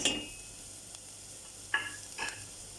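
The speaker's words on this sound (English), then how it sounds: "You're just waiting for the onions to soften and fry for a bit." Onions softening in a frying pan give off a faint, steady sizzle, with a sharper hiss at the start and two light utensil scrapes or taps later on.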